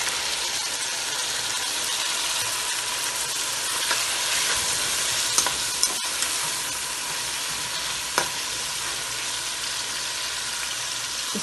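Tomatoes frying in a pan for chicken tahiri biryani, a steady loud sizzle with occasional spatula taps and stirring scrapes, close and continuous.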